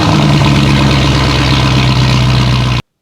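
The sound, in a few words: V8 Land Rover Discovery engine with straight-through exhaust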